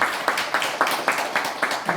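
A room of people at an operations meeting applauds the auditor, a fairly loud, steady patter of hand claps with a brisk, even rhythm throughout.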